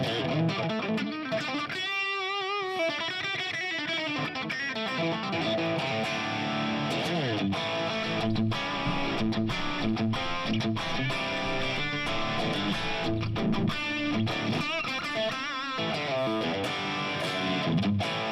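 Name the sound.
electric guitar through Plexi amp preset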